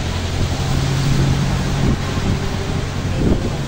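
Loud, steady wind buffets the microphone over a continuous rush of surf at a beach in Mabini, Batangas, Philippines, with a few swells of louder wave wash.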